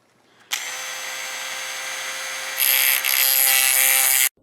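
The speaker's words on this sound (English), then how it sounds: "I'm going to cut it out, and I have a cut-off disc with my Dremel" A Dremel cut-off disc grinds through a rivet on a Rotel RX-1603 receiver, a loud, steady high-pitched whine starting abruptly, rising in intensity midway as it bites harder, then stopping sharply, close and alone.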